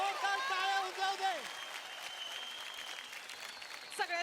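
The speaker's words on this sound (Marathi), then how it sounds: "जोरदार टाळ्या उजव दे" A studio audience applauds on a Marathi TV dance show, a steady broad wash of clapping that takes over after a brief sung or musical phrase at the start, with a short voice near the end.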